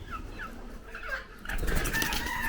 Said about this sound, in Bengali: যে এখানে মুরগি, সব দেশি মুরগি